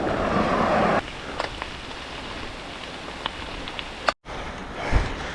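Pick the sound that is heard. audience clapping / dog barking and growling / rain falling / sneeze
rain falling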